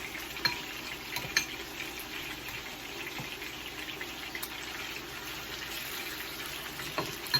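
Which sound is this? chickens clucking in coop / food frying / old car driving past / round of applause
food frying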